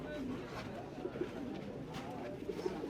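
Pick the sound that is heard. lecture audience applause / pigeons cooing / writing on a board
pigeons cooing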